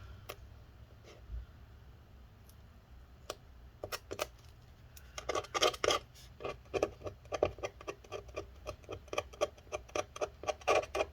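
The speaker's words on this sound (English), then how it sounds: "let's peel this." Battery adhesive being peeled inside a 15-inch Retina MacBook Pro A1398 during battery replacement gives quiet, close ticking and rasping strips, sparse at first and then quick, irregular bursts of tearing clicks, with no talk.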